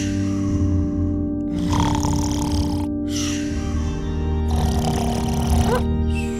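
A sleeping woman snores loudly and close, in two long rasping inhalations separated by quieter breaths, over a steady low background hum.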